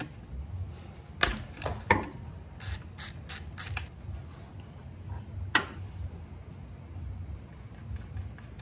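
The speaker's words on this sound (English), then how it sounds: "Step one, remove drain bolt." Ratchet wrench loosening a motorcycle's oil drain bolt, with short bursts of rapid clicking and a few sharp metallic knocks, close and fairly quiet.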